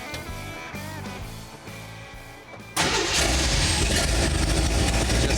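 A Jeep 258 cubic inch six-cylinder engine cranks with a rhythmic starter chug, then catches and roars up to a loud, steady idle that continues to the end.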